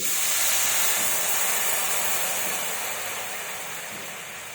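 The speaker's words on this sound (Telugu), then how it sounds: "ఇప్పుడు వాటర్ వేసుకోవాలి." Water poured into a hot pan of oil-fried spices for masala charu dal gives a loud, steady steaming hiss that runs throughout and eases slightly toward the end, with no talking.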